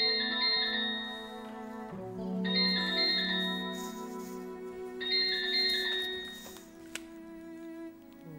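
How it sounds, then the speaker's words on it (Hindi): A mobile phone ringtone plays as a bright electronic melody, repeating tonal phrases with sustained notes, moderately loud indoors with no talking over it. "तुम्हारा फोन बज रहा है।"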